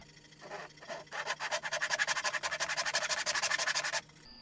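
A wooden travel-size game board is sawn in half by hand, with rapid, steady back-and-forth rasping strokes that build and run for a few seconds before stopping. The sawing is fairly quiet and close, with no talking.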